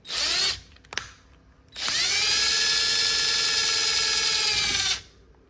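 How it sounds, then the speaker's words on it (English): A power drill bores into cured JB Weld epoxy after about 30 hours of curing, first in a short whining burst, then in a steady, loud run of about three seconds, close up with no talk. "So can I drill and tap this JB Weld after it's been cured for about 30 hours?"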